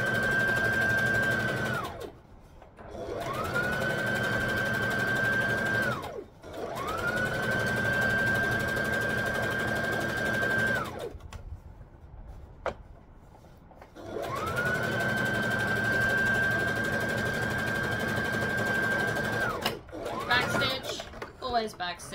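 A sewing machine stitches and backstitches fabric for a wrap skirt in several long loud runs of whirring motor hum. Short pauses separate the runs, and a voice talks faintly in the gaps.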